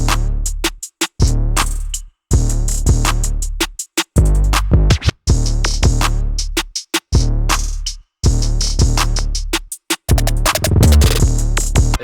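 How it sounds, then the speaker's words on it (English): A classic Zay 808 bass line in a Detroit-style beat with no kick drum plays in short, punchy, booming notes with brief gaps, carrying a steady rhythm throughout. "Last thing I've added was this 808, the classic Zay 808"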